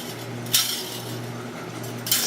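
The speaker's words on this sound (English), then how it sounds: "So get yourself a whisk." A metal whisk clinks sharply against a bowl twice, crisp bright taps about a second and a half apart over a low steady background hum.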